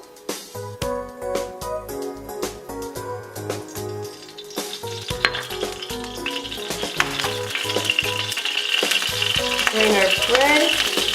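Oil sizzles in a frying pan while French toast is cooked. Loud background music with a strong beat runs over it, and the frying grows into a brighter, steady hiss toward the end.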